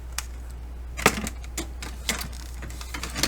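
Scissors snip off small pieces of paper to form a tab on a ring-bound journal, giving a few short, sharp crisp cuts close by over a steady low hum, with no talking.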